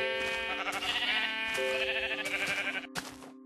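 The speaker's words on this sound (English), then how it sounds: "Now you can attack the sheep to collect wool by left clicking on them" Sheep in the Minecraft video game bleat as they are struck with a wooden sword, a few repeated game-sound bleats in quick succession with a sharp hit sound near the end, loud and with no talking.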